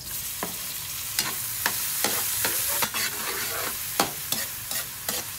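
Tomatoes go into garlic and onion sautéing in a pan, with a steady sizzle under repeated sharp scrapes and clinks from stirring, close and fairly loud.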